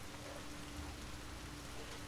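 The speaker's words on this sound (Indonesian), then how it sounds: "Bohong, hujan, kita dihujanin." Steady rain pours down on a mountain trail at a campsite on Mount Salak, a dense, even hiss of falling drops that holds constant throughout with no voices.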